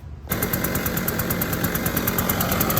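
After a brief quiet moment, a Husqvarna 150BT backpack leaf blower's two-stroke engine bursts into a loud, rapid, rattling run that holds steady and close to the end, with no talking.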